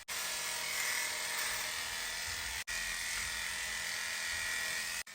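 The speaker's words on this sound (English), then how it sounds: "After trimming his pads and nails, Darcy started to clip his body." Electric clippers buzzing steadily while clipping a Springer Spaniel's body coat, a close, continuous high whine with two brief cutoffs, no voices.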